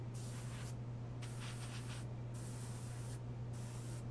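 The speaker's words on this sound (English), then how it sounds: "It's like it's trying to spray, but it's all bubbles, so it doesn't quite go through." A spray bottle of water sputters in repeated bursts, spraying mostly bubbles, each a rough, bubbly hiss, over a steady low hum.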